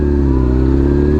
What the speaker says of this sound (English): Another bike pulled in. BMW.